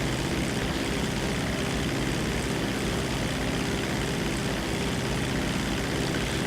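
Propeller plane engine droning steadily in GTA 5 Online, a continuous loud hum with no breaks and no talking.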